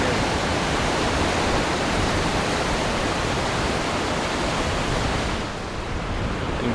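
Water rushing beneath and through rocks along the Lake Superior shoreline, a dense steady roar that fills the whole clip at close range and eases slightly near the end, with no talking.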